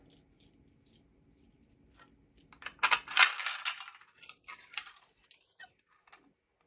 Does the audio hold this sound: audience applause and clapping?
no